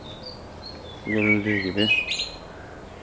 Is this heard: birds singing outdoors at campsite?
yes